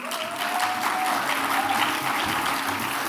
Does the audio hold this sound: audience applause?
yes